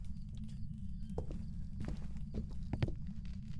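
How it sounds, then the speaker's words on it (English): Ghost footsteps crossing salt in Phasmophobia's Grafton Farmhouse: a handful of faint, irregular crunchy steps over a low steady hum, with no talking. "Oh, I just heard the footsteps. That's it walking through the salt."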